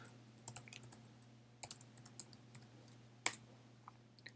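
Fingers tap out a location on a computer keyboard in quick, uneven bursts of clicks, close and fairly quiet over a steady low hum, with no talking.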